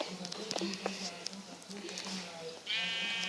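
A sheep in the Minecraft video game gives short bleats, with a game-style sound effect near the end, all under steady talk from a speaker.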